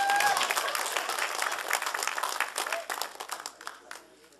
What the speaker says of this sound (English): You're clapping like you're wrestling.